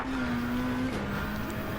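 Race car in Gran Turismo 7 at Lake Louise, its engine holding a steady droning tone that drops in pitch partway through as the throttle eases and it gears down, over constant road and tire noise.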